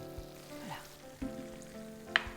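Nikujaga with sake and soy sauce is stirred as it simmers in a pot, giving a soft, quiet bubbling sizzle with a few faint scrapes and clinks.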